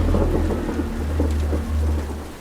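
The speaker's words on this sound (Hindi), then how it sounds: "एक दिन अचानक भारी बारिश और तेज हवाएं चलने लगी" Heavy rain pours steadily while deep thunder rumbles continuously underneath, loud and close, with no voices.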